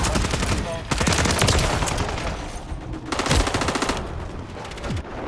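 Rapid automatic gunfire from the video game Call of Duty rattles in dense, loud bursts with brief gaps, sharp individual shots piling up into continuous volleys.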